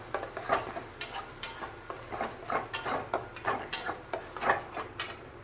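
A spoon scrapes and knocks against a pan while chicken maharani is stirred with ginger garlic paste in a little oil, giving repeated irregular clinks and scrapes, moderately close, with no talk.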